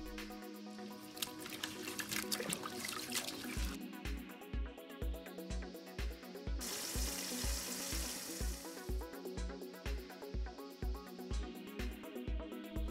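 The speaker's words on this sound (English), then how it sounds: "carefully wash the leaves until all the dirt is gone. Change the water a few times" Fresh pandan leaves are swished and rinsed in water, with soft faint splashing and trickling under a steady rhythmic thumping beat.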